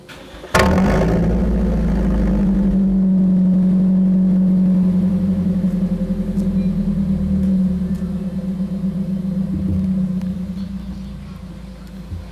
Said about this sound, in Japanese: マフラーの音を聞いてもらえたらと思います。